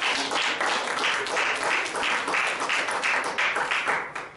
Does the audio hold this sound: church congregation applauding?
yes